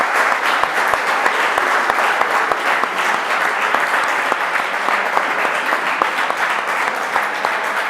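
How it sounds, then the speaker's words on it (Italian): Sustained applause from an audience after a talk, dense and even clapping that fills the whole stretch at a steady loudness, with no voices standing out. "E gli facciamo anche un applauso."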